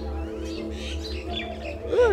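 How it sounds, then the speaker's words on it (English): A strange bird at a ruined site in Delhi, India gives a short rising call near the end, clear over steady background hum and distant chatter. "A really weird bird."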